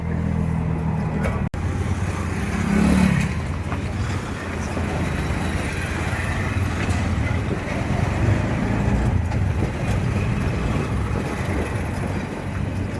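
An auto rickshaw driving along a road, its engine a continuous rumbling drone with wind buffeting the microphone and passing traffic noise, steady and close for the whole stretch.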